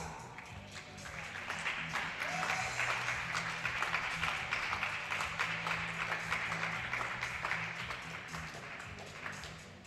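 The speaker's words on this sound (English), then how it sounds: "Let me hear a round of applause before we go to the next shot." Spectators applauding at a men's air rifle European Championship event in Osijek, Croatia, a soft, sustained patter of clapping heard at a distance over a low background hum.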